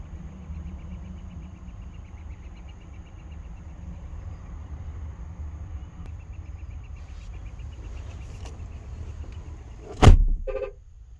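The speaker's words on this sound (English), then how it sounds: "shutting the door, it does shut quite solid. It has the nice satisfying thunk to it" A single solid door thunk from a 2021 Chevrolet Tahoe LT lands near the end after a steady low interior hum, followed by a brief faint rattle.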